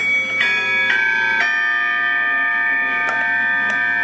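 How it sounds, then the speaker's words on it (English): An Armenian altar chime with four bells, representing the four evangelists, rings in a bell museum, giving several bright metallic strikes with long sustained, overlapping tones that decay slowly, loud and close with no talk. "The one with the 4 is an Armenian altar chime."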